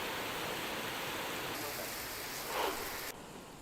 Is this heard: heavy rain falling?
yes